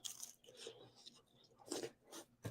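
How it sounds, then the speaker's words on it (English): Person chewing food close to the microphone, a series of quiet crunchy bites and mastication sounds in irregular bursts, faint overall with no speech. "you're going to hear me chewing."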